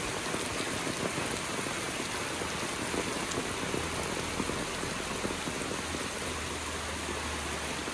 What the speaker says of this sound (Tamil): வெளியில் நல்லா மழை பெஞ்சு கொண்டிருக்கி